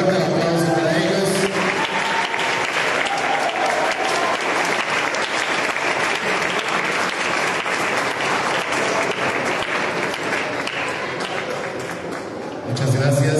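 Sustained applause from an audience at a solemn municipal council session honouring artistic merit, steady and dense for the whole stretch, with voices murmuring underneath before a slight dip at the end.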